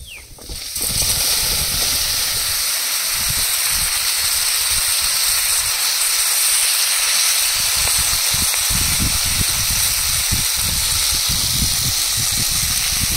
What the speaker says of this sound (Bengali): এবার তেলের মধ্যে দিয়ে দেবো কালো জিরা গুঁড়ো, ধুয়ে রাখা বেগুন দিয়ে দেবো